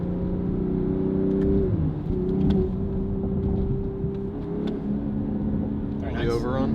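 A BMW G26 M440i with a Valvetronic Designs valved exhaust idles and revs, engine note rising and dipping through steady throttle blips, loud and close, with a person talking briefly near the end.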